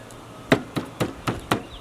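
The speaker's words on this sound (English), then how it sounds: "It's just little taps. I mean, you're not trying to pulverize it. You're just trying to tenderize it." A meat mallet gives deer backstrap six light, evenly spaced taps to tenderize it, each a sharp, close knock about a quarter second apart, with nothing else in the background.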